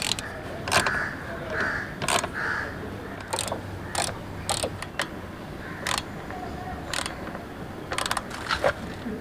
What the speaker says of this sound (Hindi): 10 नंबर के सॉकेट की मदद से ये जो हमारा नट हम लोग ने लगाया है इसको